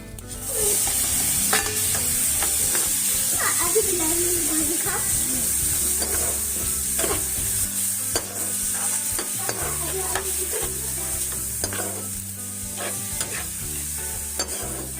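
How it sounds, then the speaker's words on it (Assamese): Chopped tomatoes frying in a dry pan with no oil alongside ginger, garlic and onion, a steady close sizzle broken by repeated scraping stirs of the spatula. "এতিয়া ইয়াত বিলাহীখিনি দি কিনে আকৌ ভাজিব"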